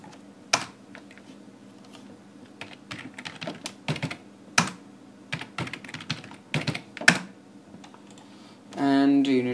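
Keys clack on a computer keyboard as a password is typed during Raspberry Pi Samba setup, irregular close taps in small clusters, ending with a brief voice.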